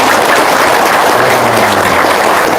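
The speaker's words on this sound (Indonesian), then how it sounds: "Tepuk tangan untuk kita semua." Applause from a religious gathering audience, a dense steady clatter of many hands clapping throughout, loud and close, with no voices standing out.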